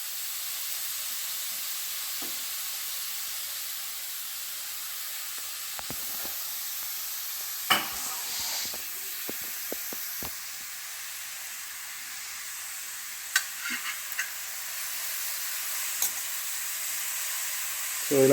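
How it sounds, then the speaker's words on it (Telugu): Carrots frying in ghee in a pan give off a steady, soft sizzle and hiss, broken now and then by brief clicks and scrapes of stirring, with no voices. "ఫస్ట్ అదే నెయ్యిలో క్యారెట్ కూడా వేసేస్తున్నాము. క్యారెట్ వేసి కొంచెం సేపు ఫ్రై చేయాలి."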